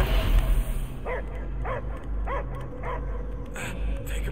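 Dog barking in the video game Guardians of the Galaxy, a series of about five evenly spaced barks over a low rumbling game ambience, with a brief higher yelp near the end.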